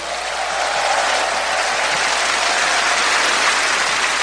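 A crowd applauds steadily and loudly at a music performance, welcoming the musician, with a dense wash of clapping that holds for the whole stretch and no voices over it.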